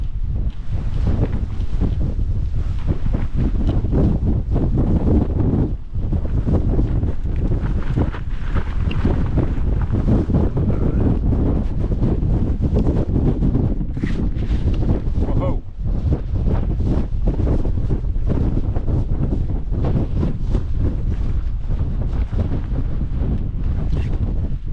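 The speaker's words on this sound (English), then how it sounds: "Get a bit blowy now." Strong wind buffets the microphone on an exposed hilltop in the Peak District near the Barbrook Bronze Age stone circles, a loud, continuous roar with gusty surges throughout and a brief voice or two underneath.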